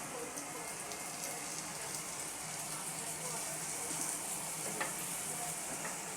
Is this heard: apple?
yes